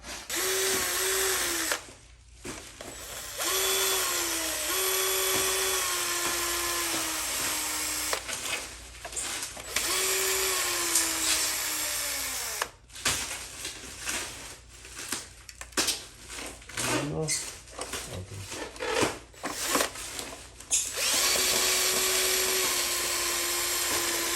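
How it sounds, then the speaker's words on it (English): A power drill backs screws out while taking down roller blinds. Its whine runs in long close bursts that shift in pitch, broken by short pauses and a few clicks and knocks. "we just have to unscrew this and unscrew that"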